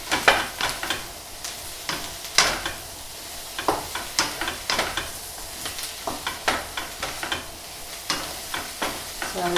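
Finely chopped mixed mushrooms sizzle in a pan while being stirred, with sharp repeated scraping strokes over a steady frying hiss, close and without speech.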